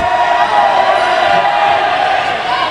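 A steady roar of a home crowd fills a gym in Hayes during a postseason Conference Carolinas volleyball tournament quarterfinal between North Greenville and Mount Olive, loud and sustained without break.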